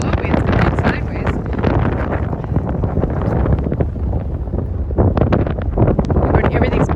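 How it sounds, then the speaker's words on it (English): Strong wind in northern Iceland buffets the microphone in loud, continuous roaring gusts with no letup. "It's pretty windy and pretty blowy."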